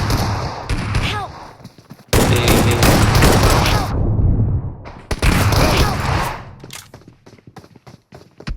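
Loud bursts of automatic gunfire in a PUBG Mobile match, with rapid volleys, thuds and brief pauses between firefights.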